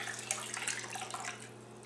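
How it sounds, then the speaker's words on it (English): Coconut water from a freshly cracked coconut trickles through a strainer into a bowl, a soft steady splashing pour lasting a couple of seconds over a low background hum. "Pour it through a strainer here like this so it catches any debris"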